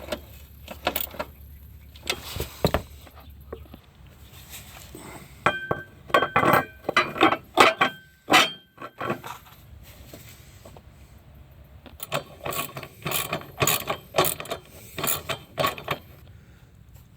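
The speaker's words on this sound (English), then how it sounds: "I'm just going to be snugging them up with this 3/8 ratchet here." A 3/8 ratchet snugs up self-locking nuts during an engine and transmission swap on a 2011-2023 Dodge Charger 3.6L Pentastar, giving bursts of rapid metallic clicking and clinks at close range, with pauses between runs.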